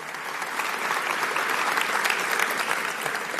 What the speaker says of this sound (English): We give a round of applause for all these local leaders and elected officials